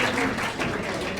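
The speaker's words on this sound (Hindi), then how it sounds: "ये क्लास 12 की चारों छात्राएं जोरदार तालियों के बीच मंच पर आ जाएं" Applause from an audience at a school prize ceremony as Class 12 students come onto the stage, a short, steady burst of dense clapping at moderate volume.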